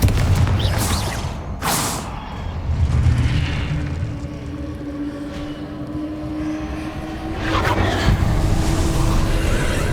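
Confringo fire spell explosions in the video game Hogwarts Legacy, loud booming blasts with rumbling tails, one near the start and another later, over a steady low background of game ambience.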